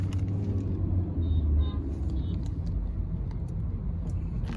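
A Hyundai Verna SX(O) IVT car engine droning with a steady low rumble as it revs, loud and close, with no talk over it.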